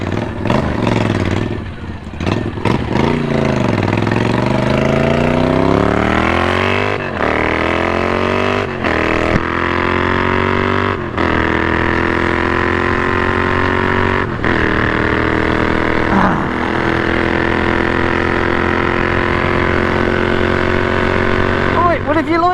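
Several motorcycles, including Moto Guzzi bikes, rev and pass close by outside a biker cafe, engines rising and falling in pitch over a steady loud roar, with a few sharp throttle blips; people talk underneath.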